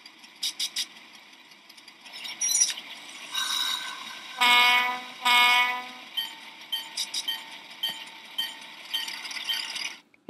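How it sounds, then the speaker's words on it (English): A SoundTraxx model-train sound decoder plays a diesel locomotive file: short blasts of a chiming horn, then two long loud horn blows, with a ringing bell and a low engine idle underneath. "hear the engine along with a horn and bell and everything on those"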